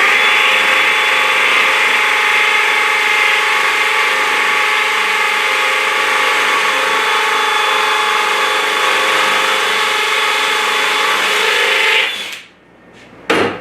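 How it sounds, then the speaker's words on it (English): A DeWalt DCD998 hammer drill bores into wood in hammer mode at speed 2, giving a loud, steady buzzing whine that runs for about twelve seconds, then cuts off abruptly and leaves a brief quiet tail. "now we're going to be in speed 2 in hammer mode. Let's do a separate hole now in speed 2"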